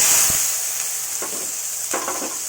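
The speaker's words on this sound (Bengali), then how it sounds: "এটা লাল করে ভেজে নিতে হবে।" Chillies and sita begun fry with black cumin in hot oil, giving a loud, constant close sizzle with a few spatters and stirring clicks, no voices.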